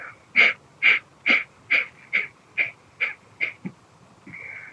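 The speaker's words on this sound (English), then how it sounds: "this power breathing like the breath of fire" Breath of fire demonstration: a series of about nine sharp, forceful rhythmic exhalations, evenly spaced and close, each one a short wheezy puff, ending with a softer longer breath.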